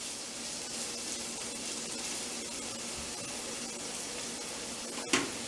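Bacon sizzling steadily in a pan on a stovetop as it is stirred around, a constant close frying hiss with a brief sharp clatter near the end.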